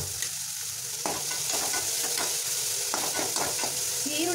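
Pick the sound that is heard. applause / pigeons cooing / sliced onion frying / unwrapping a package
sliced onion frying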